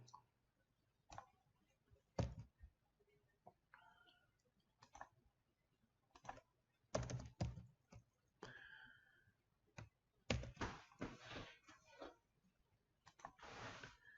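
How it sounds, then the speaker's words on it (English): Typing code on a computer keyboard: sparse, quiet key clicks and taps in irregular bursts, some faster runs of keystrokes, heard close and alone in a quiet room. "Then type in the following."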